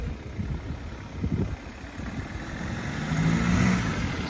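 A car passes on a road in the seaside town of Ravda, Bulgaria, its engine swelling from a moderate hum to a louder, closer drone toward the end, with steady background noise throughout.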